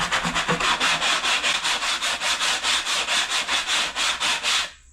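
A hand saw cuts through a wood panel with an even rhythmic stroke, about four to five rasping strokes per second, close and steady for several seconds before stopping abruptly.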